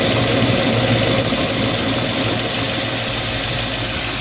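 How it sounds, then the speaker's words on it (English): A Land Rover engine idles smoothly and steadily, a continuous close mechanical drone with a fairly even rumble that holds for the whole stretch without any talking over it. "This thing actually runs. It goes into gear. And it idles pretty smooth."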